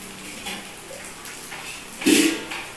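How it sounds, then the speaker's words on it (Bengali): Water added to a pan of frying potatoes for a milk and egg curry, heard as a short, close splash near the end after a few faint clinks and quiet kitchen noise. "এইবার আমি কি করছি, জলটা দিয়ে নিই।"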